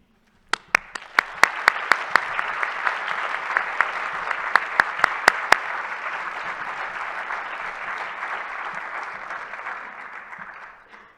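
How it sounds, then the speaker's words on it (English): An audience at a university listening event breaks into steady applause, starting with a few sharp claps and swelling into a sustained wash of clapping that fades out after about ten seconds. "And now that's the last time we will applaud until the end of the entire program."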